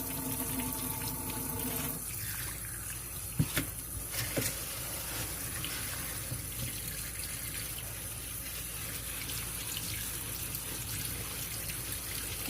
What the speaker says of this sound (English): now we're going to rinse these out